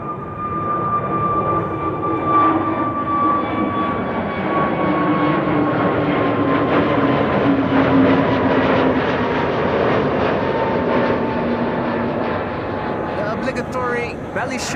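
A Transavia Airbus A321neo jet departing Amsterdam Schiphol for Ibiza roars loudly and steadily overhead with a whining engine tone that slowly falls in pitch, while a person talks over it.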